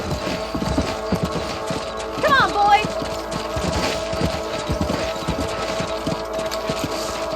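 Horse hooves clip-clop at a steady gallop in the Western video game Red Dead Redemption, with a brief whinny partway through and a voice speaking over the riding.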